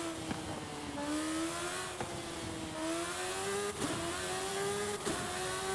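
A small car with big wings in Forza Horizon 5 drives steadily, its engine humming and slowly rising in pitch through the gears, with brief shift dips and no talking.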